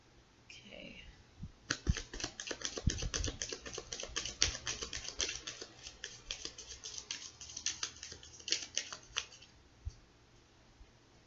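Tarot cards shuffled and handled, slightly sticky, make a close, rapid run of dry clicks and riffling flicks, with denser bursts and short pauses between handfuls.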